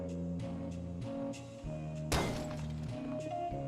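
A metal bat crushes tanks in the video game Hello Charlotte, landing as one sharp, heavy crunching impact midway through over a bed of game music.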